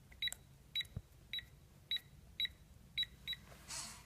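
A series of seven short, crisp electronic beeps at a steady rhythm on a Liberty gun safe keypad, followed by a brief soft mechanical whir as the lock releases.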